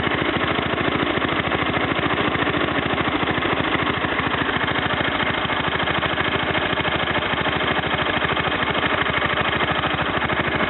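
A Kohler K241 single-cylinder small engine runs steadily at a raised idle, a continuous even putter that stays loud and close for the whole stretch with no talking.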